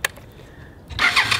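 Honda Ascot motorcycle after restoration, its engine cranking briefly and then catching into a loud, rough run, heard close by.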